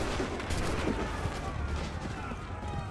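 Musket gunfire fills a battle at Lexington and Concord in the video game Assassin's Creed 3, a dense, rumbling volley of overlapping shots that runs continuously under shouting.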